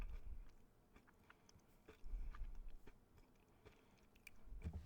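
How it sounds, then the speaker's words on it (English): Someone chews a chocolate-covered pretzel close up, giving soft, quiet crunches in uneven bursts with low mouth noises between bites. "It's a little softer crunch than the salted caramel."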